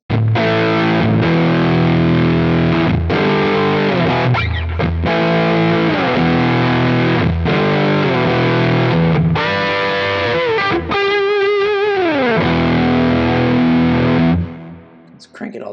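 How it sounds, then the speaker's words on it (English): Electric guitar played through an MK3 Silicon Fuzz pedal model on a Quad Cortex gives thick, heavily distorted strummed chords and bending lines, loud and continuous, before cutting out near the end. "the last of the models is this MK3 Silicon Fuzz"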